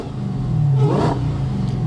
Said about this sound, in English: And just listen to that supercharger whine.